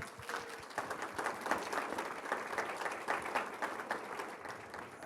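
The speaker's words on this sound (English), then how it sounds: "A big round of applause" An audience at an Art Basel Awards Summit panel applauds a speaker named Lydia, a steady wash of many hands clapping at moderate level, fairly distant and sustained throughout without a break.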